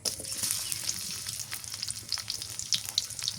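Onions frying in oil in a home kitchen, a close, steady crackling sizzle with scattered sharp pops and soft stirring, no voices.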